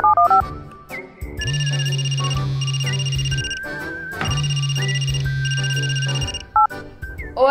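Telephone ringing while a child calls her teacher, a repeating electronic ringtone pattern in two long cycles with short electronic tones before and after, no talking.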